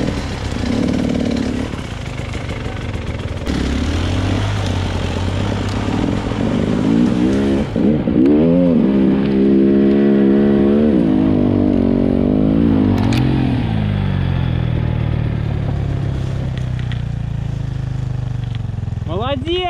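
A Minsk X250 motorcycle accelerating through a swamp, its engine revving hard in rising, wavering surges, loud and close, then easing down, with people talking and shouting over it.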